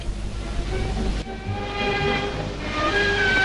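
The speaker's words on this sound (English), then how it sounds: "Wagons fully loaded with tubes arrived openly at the docks" Railway wagons fully loaded with steel tubes roll into the docks, a steady rumbling drone with faint metallic squeals and clanks, continuous and fairly close, with no voices.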